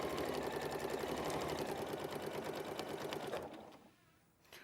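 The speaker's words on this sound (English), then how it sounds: "We go across a couple of stitches. And back down, and we're going to repeat that line." Sewing machine stitching a rucksack bag, running in a fast steady whirring rattle that continues for several seconds, then slows and stops, followed by a faint mechanical shuffle, close and loud.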